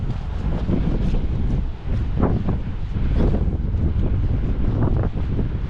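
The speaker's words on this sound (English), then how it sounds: "so the wind will start getting really strong." Strong gusting wind buffets the microphone on an exposed coastal walk, a loud continuous roar with rumbling low end and brief lulls.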